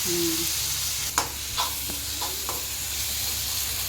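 Chopped kothu parotta frying in a pan gives a soft, faint sizzle with a few scattered spatula taps and scrapes. A brief tonal whistle sounds at the start, and no one speaks.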